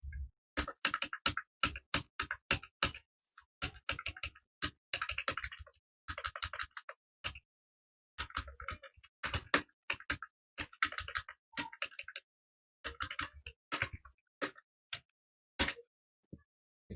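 Rapid typing on a computer keyboard, bursts of crisp clicking keystrokes separated by short pauses, close and dry with no voices.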